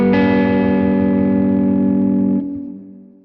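A loud, distorted electric guitar chord in 22EDO microtonal tuning is struck once and sustains with a thick, buzzing tone for over two seconds before it is choked and fades.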